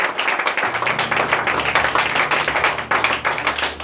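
A church congregation applauding loudly, with dense rhythmic clapping from many hands that keeps up steadily throughout and has no talking over it.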